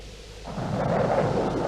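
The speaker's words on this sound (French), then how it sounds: "l'orage va bientôt éclater sur nos têtes." Thunder rumbles up in a cartoon storm, a low roar that swells loud after a quieter start and holds steady as the storm breaks overhead.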